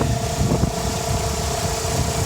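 A 1999 Toyota RAV4 convertible engine idles in its open engine bay, a steady, even low hum with no revving, heard close up and without voices.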